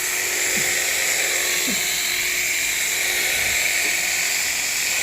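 A machine grinds eyeglass lenses with a continuous high-pitched whine and a steady hiss, punctuated by a few faint knocks, in an optician's workshop.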